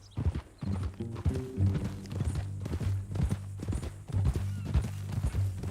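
Horse hooves clip-clop at a steady walking rhythm in the Western video game Red Dead Redemption 2, close and clear, with an occasional snort or whinny mixed in and no talking.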